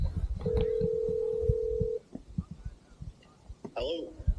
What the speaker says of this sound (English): Call Lane Bella on speakerphone.